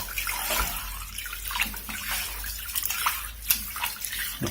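Water runs steadily into a sink as food is rinsed while cooking a Mauritian meal, a close, continuous splashing rush with irregular surges and splatters.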